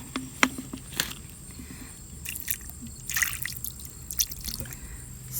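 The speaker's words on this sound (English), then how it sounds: "I'm going to pour water on them and see if that changes them" Water is poured over yellow rocks gathered from a lake, giving faint, scattered drips and small trickling splashes in an uneven rhythm, close by and with no talking.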